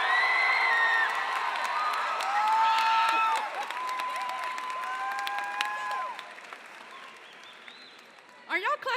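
A high school commencement crowd claps loudly, mixed with cheering and whoops, then the noise fades and a few louder bursts come near the end.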